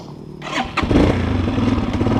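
A dirt bike engine starts and revs up close on a forest trail ride, with Yamaha YZ 250 and Hornet Dakar bikes; a sharp catch into a loud, throbbing rev that holds.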